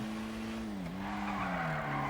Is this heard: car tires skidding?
yes